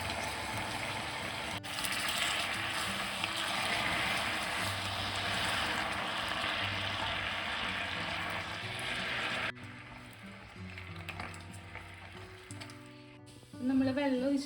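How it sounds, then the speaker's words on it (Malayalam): Water poured into hot caramelized sugar for a plum cake boils up with a vigorous hissing, bubbling rush, close and sustained, then settles into a quieter simmer with a few faint clinks. "നമ്മൾ വെള്ളം ഒഴിച്ചപ്പോൾ ഇത് ഫുള്ളായിട്ട് ഇങ്ങനെ തിളച്ച് വന്നു"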